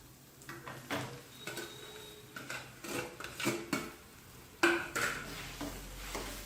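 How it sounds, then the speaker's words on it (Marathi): Grated potato and turmeric being stirred in a pan give a run of close, uneven scraping and clinking strokes against the metal, with a brief louder clatter partway through. "तर आता हे सर्व मी व्यवस्थित मिक्स करून घेते"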